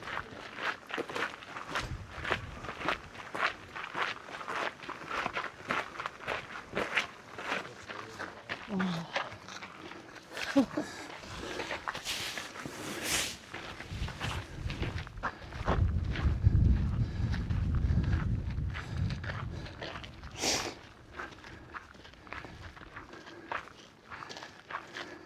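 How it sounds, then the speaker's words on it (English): Footsteps crunch steadily on a gravel path on a hiking trail in Arches National Park, close to the microphone, with a louder scuffing stretch midway, light wind and people talking throughout. "which is our footsteps on the gravel path."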